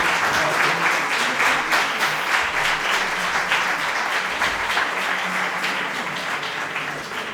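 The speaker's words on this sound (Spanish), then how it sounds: "Le aplaudimos muy fuertemente para agradecerle su intervención." An audience at a hospitality congress lecture in Lourdes applauds steadily, a dense, fairly loud wash of many hands clapping that carries on for several seconds before starting to fade.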